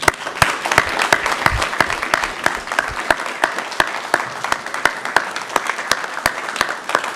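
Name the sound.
applause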